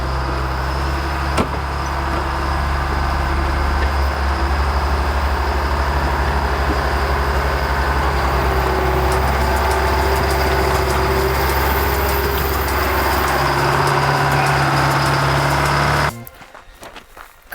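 A Changli road grader drives at top speed across a packed driveway, a steady loud engine drone with continuous low rumble and rattling that holds for about sixteen seconds before cutting off abruptly.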